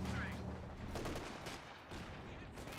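Dense battle gunfire from Company of Heroes 2, with rapid overlapping shots and bursts that form a continuous loud fusillade, while a voice talks over it.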